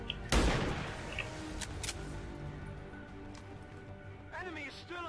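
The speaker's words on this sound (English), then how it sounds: "This will be a lucky shot if it hits." One sharp, loud gunshot in the XCOM 2 video game, followed by a decaying tail, then faint ambient game sounds and a few small clicks.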